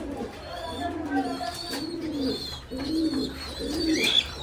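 Red Lahori fancy pigeons coo in soft, repeated rolling phrases close by, each low throaty call swelling and fading, with faint higher chirps scattered between.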